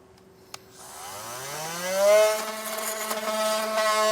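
An oscillating multi-tool scrapes sealant off the frame of a 2024 Volkswagen Tiguan: a sharp tap, then a motor whine that rises in pitch and settles into a steady, loud buzz with no talking.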